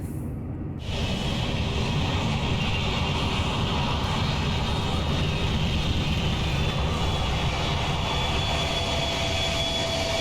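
An F-104 Starfighter jet in Microsoft Flight Simulator 2020 roars in a steady, loud, broadband engine rush that cuts in abruptly after a brief quieter moment and holds on unchanged.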